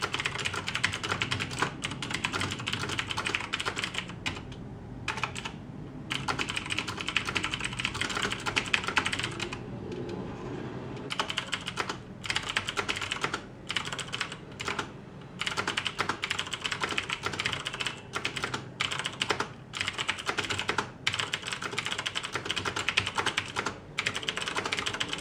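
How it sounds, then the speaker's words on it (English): Rapid, continuous clicking of keys on a TVS Bharat Gold mechanical keyboard, close up, with brief pauses between bursts of typing; no talking. "So I'll just give you guys a demonstration of typing on this keyboard."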